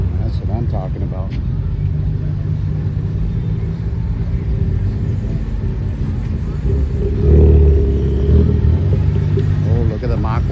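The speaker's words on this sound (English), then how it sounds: "Oh, look at the Mach 1 coming up." A 1969 Ford Mustang Mach 1 classic car drives past at an outdoor car show, its engine a low steady rumble that swells briefly around the middle, with people talking over it throughout.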